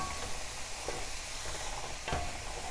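Carrot and zucchini sautéing in a pan with garlic and leeks give a soft, steady sizzle, with a couple of brief scraping stirs cutting through the hiss.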